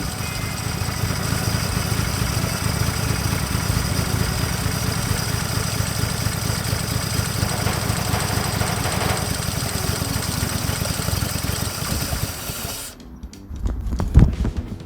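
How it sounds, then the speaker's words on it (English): A 1950 Chrysler DeSoto flathead six idling steadily with a low, even chugging pulse for about twelve seconds, close and loud, before it drops away into quieter background noise with a brief thump. "It's idling."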